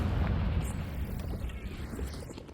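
A Confringo blast spell bursts in Hogwarts Legacy, a booming fiery explosion rumbling continuously with dense low energy over the whole moment, amid other combat noise.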